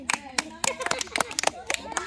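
Applause from a crowd at a children's game, with bursts of clapping mixed with voices.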